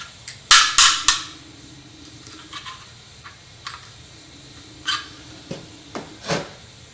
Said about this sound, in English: We're going to drop it in, flip it over, and hopefully peen it.